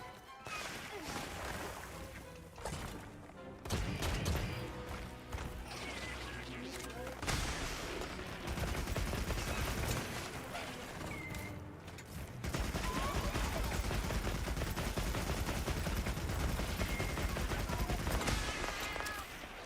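Heavy bowgun firing rapidly in a monster-hunting video game, a dense run of loud, repeated gunshot-like blasts layered over game music and effects, steady and continuous throughout with brief breaks, with a voice speaking faintly underneath.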